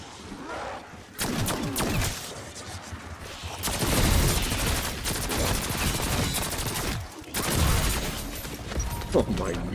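A Mystic Gold nail gun in Black Ops 6 fires in rapid automatic bursts, dense clattering volleys separated by short pauses, loud and close with game effects and a player talking over them.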